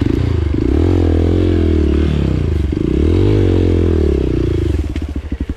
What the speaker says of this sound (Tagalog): Ang lakas ng motor mo